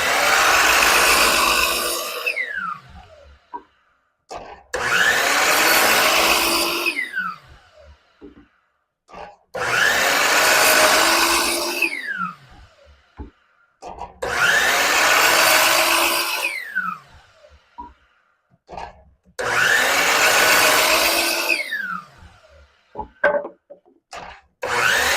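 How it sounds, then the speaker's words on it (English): A miter saw runs up to speed and cuts through wood for yard stakes five times in a row. Each loud, close whining cut lasts a couple of seconds and is followed by a short spin-down and some handling clatter. "when you're using the miter saw, let it get up to full speed and don't just chop it down"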